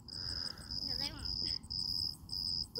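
Grasshoppers on a ranch give a steady, high-pitched insect chirring that runs through the whole stretch, with a faint voice briefly underneath.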